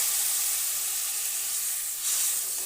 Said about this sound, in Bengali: এতে সামান্য জল দিয়ে দেবো,